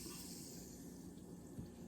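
Soda water pours from a cup into a bowl of cranberry orange sourdough bread ingredients, a short, steady close splash and trickle that runs alone for about two seconds.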